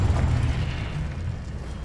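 A Confringo fire spell bursts in Hogwarts Legacy, a deep, rumbling explosion that stays loud and dense for its whole short length and slowly eases off.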